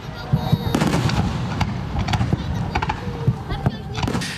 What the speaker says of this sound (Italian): i fuochi d'artificio illuminano 12 km di spiaggia a Cavallino Treporti